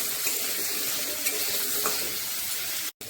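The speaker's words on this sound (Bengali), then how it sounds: "আলুটা কিছু সময় ভেজে নেব, তার ভিতরে মাশরুমটা দিয়ে দেবো।" Potatoes fry in oil left from cooking cauliflower, a loud steady sizzle with stirring scrapes that cuts out sharply just before the end.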